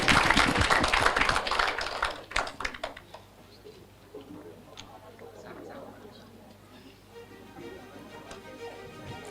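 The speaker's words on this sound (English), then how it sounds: "Please give a big round of applause" Conference audience applauding a presenter at an international environmental community conference, a dense burst of clapping that thins and fades after a few seconds, leaving quiet room noise.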